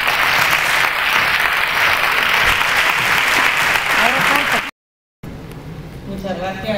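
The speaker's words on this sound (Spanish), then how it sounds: "por favor, un fuerte aplauso." Loud, sustained audience applause at a school graduation ceremony as the director comes up, a dense roar of clapping, briefly cut to silence, then returning more thinly with a voice and other noises.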